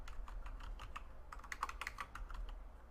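Rapid typing on a computer keyboard during a Technofirma game session, a steady run of close, light key clicks with irregular rhythm and no talking.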